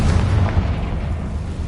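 A Confringo fire spell bursts in Hogwarts Legacy, a loud, dense rumbling blast that fills the whole moment and fades slightly without a break.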